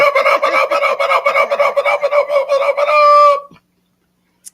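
A loud, close rooster crows in a long rhythmic call of pulsing notes that ends abruptly, leaving near silence.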